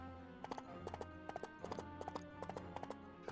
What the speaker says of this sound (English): The horses are moving.